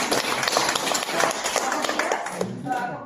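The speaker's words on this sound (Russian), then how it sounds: "Аплодисменты, любовь." Audience applause at a Russian talk show, dense and steady clapping filling the room, fairly loud throughout and thinning slightly at the end, with a faint voice underneath.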